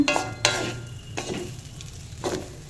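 Khichuri ingredients stirred in a pan, with three or four sharp scraping strokes of a spoon against metal over a low sizzle, each stroke separated by brief pauses, close and without voices.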